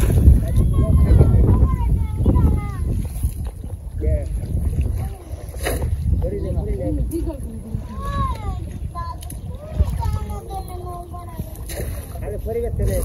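A village boat moves across water with a continuous wash and rushing noise, while several people, including a child, talk and call out over it nearby.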